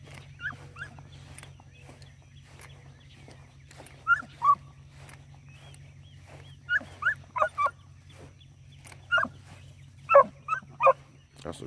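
A rabbit-hunting dog during training gives short yips, whimpers and barks in scattered clusters, fairly close, over a low steady hum, with a voice heard at times.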